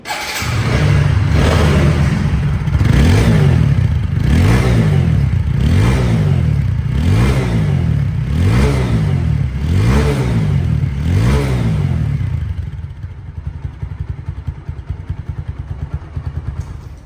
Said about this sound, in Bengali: বাইকটি চলেছে সাউন্ড কোয়ালিটি শুনুন